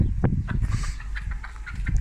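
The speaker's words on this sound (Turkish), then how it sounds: "beş tane horozumuz var burada" Roosters and hens in a backyard coop, five roosters among them, clucking and calling close by in a busy, overlapping jumble of low grunting notes and brief squawks.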